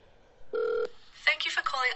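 A phone call being dialed to a snack company's customer service line: a few tonal keypad beeps, then a person begins talking over faint background.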